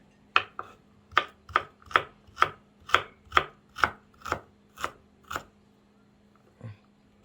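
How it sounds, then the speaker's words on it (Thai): A knife chops ginger steadily on a board, about a dozen crisp, evenly spaced strikes close by, then a pause and one last soft cut. "ขิงหั่นแค่ประมาณนี้พอ"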